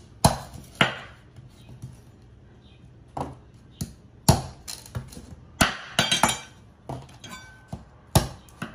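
Sugar cane is chopped into strips with a blade striking a hard surface, giving sharp, close, irregular knocks and clacks spaced about a second apart, with quiet gaps between them.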